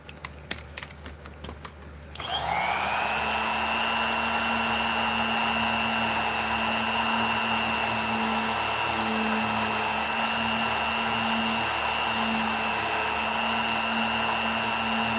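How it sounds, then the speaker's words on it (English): Small Dremel rotary tool switching on after a brief clatter and then whining steadily at high speed, loud and close, running alone without talk. "The little Dremel's getting too hot."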